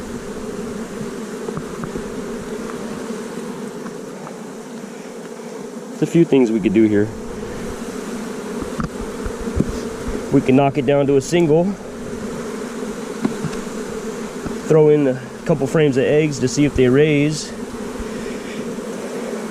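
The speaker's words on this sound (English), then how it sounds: "There is quite a bit of bees." Honeybees drone steadily around an open hive being prepared for winter, a continuous close buzz that runs beneath a man's speech.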